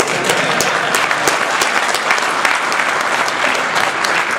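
Steady, dense applause from an audience at a political rally, loud and continuous throughout with no pauses.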